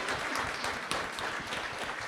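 Church audience applauding a singer at a praise concert in Saint-Denis, moderate continuous clapping from a crowd, fairly distant and even, with a few sharper claps standing out and no voices on top.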